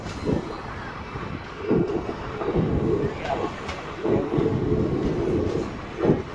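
A Bhavnagar–Porbandar passenger train rolls along with a steady rumble and rhythmic clatter of wheels over rail joints, loud and close throughout, entering Vadiya Devdi station.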